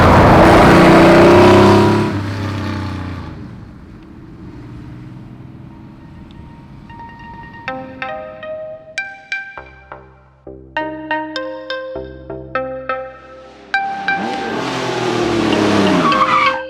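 A red 1992 Porsche 911 Carrera 4 (964 generation) sports car engine revs loudly at the start, then bright electronic chimes ring out before the engine roars up again at the end.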